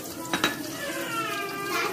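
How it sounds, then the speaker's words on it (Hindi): Masala sizzling and frying in a pan during preparation of stuffed brinjal (bharela baingan) masala, with a couple of brief stirring scrapes near the start over a steady, close frying hiss. "देखिए माशाल्लाह मसाला हमारा बहुत अच्छे से भुन रहा है"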